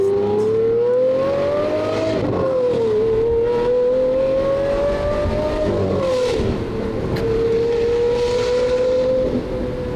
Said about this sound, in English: the exhaust on this thing is insane